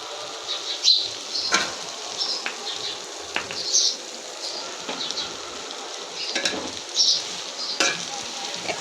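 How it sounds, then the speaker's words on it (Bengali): Noodles with spices being stirred in a frying pan, a steady close sizzle under repeated scraping and tapping of a spatula against the pan, irregular strokes continuing throughout. "এখন মিশিয়ে নিতেছি সুন্দর করে, মশলাটা নুডলসের সাথে মিশিয়ে নেব।"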